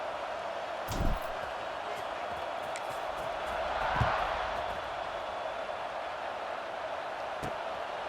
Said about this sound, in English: They're set to kick it off, and this crowd now ready to get behind them.